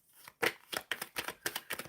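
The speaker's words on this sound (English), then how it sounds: "Shuffling for Simran." Tarot cards are shuffled by hand in a run of six or seven crisp riffling bursts at a quick, even rhythm, close and fairly quiet, with no talk over them.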